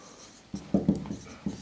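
A pen or marker writes out an SQL select command, giving a few short scratchy strokes in quick succession, close and fairly quiet, with no talking.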